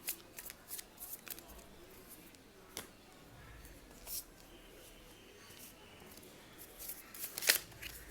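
Tarot cards are arranged and shuffled close by, quiet papery flicks and soft slaps in irregular bursts, with one sharper snap near the end.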